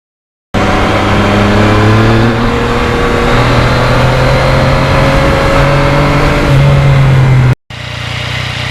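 A Yamaha MT-09 motorcycle with a quick shifter accelerates hard, its engine droning loud and close with rising pitch, a few quick gear changes, then a short cut before the engine continues.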